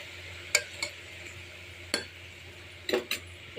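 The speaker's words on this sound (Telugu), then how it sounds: "టమాటో వేసి కొంచెం మిక్స్ చేద్దాం" A spoon scrapes and clinks against a pot as tomatoes are stirred into simmering gongura curry, giving a few sharp, scattered taps over a quiet, steady background.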